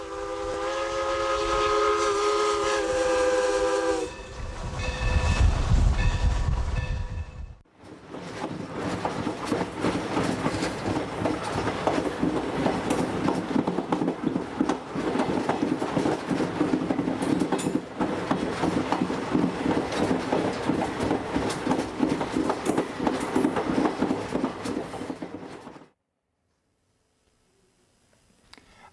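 Texas State Railroad steam locomotive number 316 sounds a tonal whistle, then rumbles past with steady rhythmic clatter and chuffing for about twenty seconds before cutting off abruptly; loud and close, no talk.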